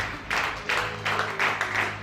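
A church congregation applauding a preacher, bursts of clapping rising and falling in several waves close by, without talk during the clapping.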